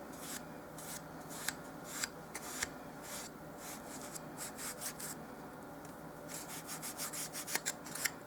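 Dark brown paint rubbed onto a dollhouse miniature stone fireplace with a cosmetic sponge, heard as close, soft scrubbing and rasping strokes in irregular bursts that quicken toward the end, with no talk.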